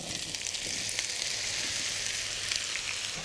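Apples sautéing in foaming butter in a pan for an apple crumble, a steady close sizzle and crackle that runs without pause and with no voices.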